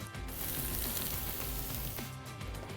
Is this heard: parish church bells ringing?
no